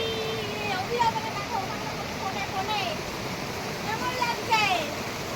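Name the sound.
waterfall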